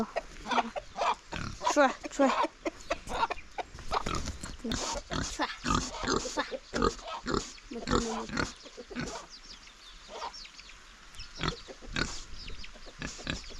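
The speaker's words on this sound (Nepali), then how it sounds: "दिदीको सुँगुर हेर्नुपर्छ यस्तो छ मोटो न मोटो" A fat pig grunts and snorts in rapid, irregular bursts close by in a Nepali village, while a person talks intermittently over the noise.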